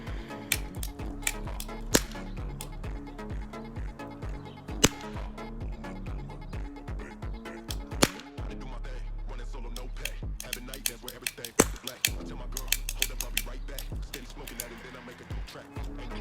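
Toy cap gun firing, sharp snapping cracks at irregular intervals, loud and close, with handling clicks and rattles between shots while a person talks over much of it.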